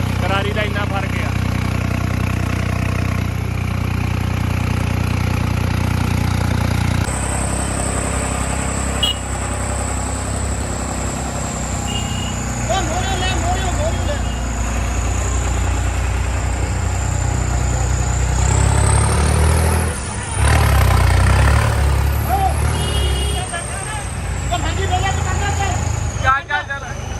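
A tractor engine turning over at a slow, low-RPM idle keeps up a steady, loud drone, with someone talking over it throughout and a brief surge in the engine near the end.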